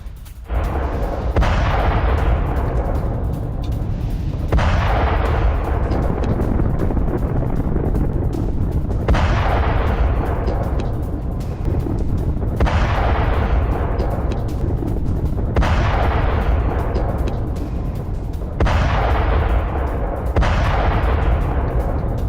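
Artillery fire during a Russian attack on Dnipro in the war in Ukraine: heavy, booming blasts land roughly every three seconds, each one rolling away slowly over a constant low rumble.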